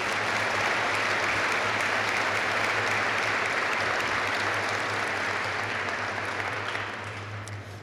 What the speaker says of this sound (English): Let's have a round of applause for our Company Grade Officer of the Year nominees